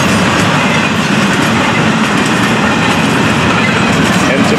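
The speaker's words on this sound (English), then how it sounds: "hey, here's a bunch of auto racks on this train" FEC freight train hauling auto rack cars rolls past close by, a loud, steady roar with rail clatter and wheel rumble throughout.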